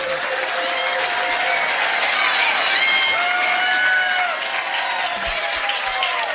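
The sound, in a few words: round of applause at trivia quiz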